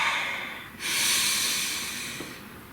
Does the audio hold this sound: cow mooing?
no